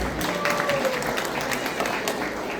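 Crowd applause at the ISKCON Barrie chariot festival, a steady outdoor wash of clapping lasting a few seconds with faint voices mixed in.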